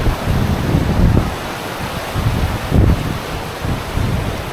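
Waterfall beside a snowy, icy landscape, a loud steady rushing roar of falling water with gusty surges and buffeting wind noise on the microphone, no voices.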